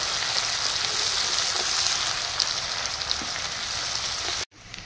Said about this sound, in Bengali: পেঁয়াজটা একটু লাল লাল করে ভেজে নেব, বা বাদামি করে একটু ভেজে নেব প্রথমে